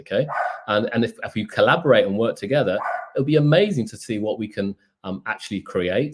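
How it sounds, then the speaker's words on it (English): A dog barks somewhere in the background of a room, the barks faint and partly buried beneath one person talking continuously close to the microphone. "that's my dog barking in the background as well"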